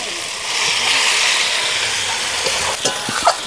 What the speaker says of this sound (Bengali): আগে থেকে মেখে রাখা মাংসটা এবার আমি দিয়ে দেব।